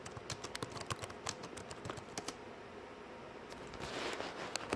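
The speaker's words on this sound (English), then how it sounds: "You just type it out, dude." Rapid, uneven clatter of keys on a computer keyboard, close and fairly loud, with bursts of quick strokes and short pauses and no talking.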